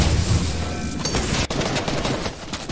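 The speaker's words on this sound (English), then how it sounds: "This is a couple of shots." Gunfire in the Fortnite video game, a dense burst of rapid shots and impacts that fills the whole moment, loud and close with a sharp crack partway through and no talking.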